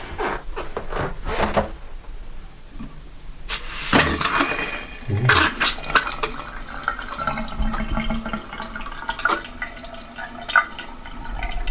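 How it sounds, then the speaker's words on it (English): Water runs from the cold tap in a flat's bathroom under repair, a weak, uneven flow with splashing bursts, drips and some clattering nearby, and no talking. "Okay, water is open. Do you want to try the cold tap?"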